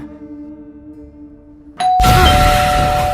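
A doorbell rings suddenly in a sci-fi horror film, a loud close chime breaking in after a quiet stretch of low tonal hum, then ringing on and sustaining to the end.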